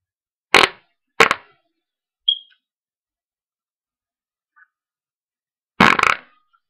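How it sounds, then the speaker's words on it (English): Farts sound in bursts: two short loud blasts close together, a quicker smaller squeak, a faint blip, then a final longer loud rasping fart, each one sharp and near with silence between them. "So stay tuned to this postcard fart."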